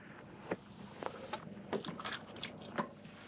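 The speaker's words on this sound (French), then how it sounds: "On prend l'eau du bac, on siphonne, tout simplement." Aquarium water siphoned through a tube into a bucket, soft trickling and dripping with scattered small splashes, close and fairly quiet, no voices.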